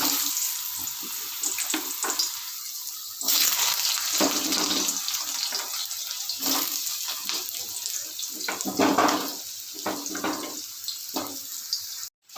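Cut potatoes go into a hot pan with spices and sizzle in a continuous loud, hissing fry for Bengali-style bitter gourd curry, with scattered crackles and spatters throughout.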